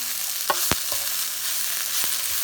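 Soft eggplant seasoned with garlic powder, salt and pepper fries in a full skillet with a steady close sizzle, broken by a few quick scrapes and knocks of stirring.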